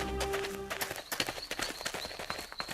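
Horses' hooves clip-clop in a quick, uneven patter of many overlapping knocks, close and moderately loud, with a high tone ringing faintly behind.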